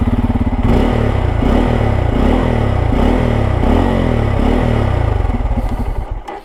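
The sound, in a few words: Bajaj Pulsar N250 motorcycle exhaust engine sound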